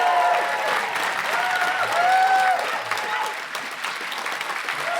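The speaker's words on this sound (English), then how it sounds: "Please give a round of applause for comedy royalty, Ed Byrne." Audience applause for comedian Ed Byrne on a comedy film quiz podcast, a steady dense wash of clapping with some cheering and whoops rising in the middle, loud and sustained throughout.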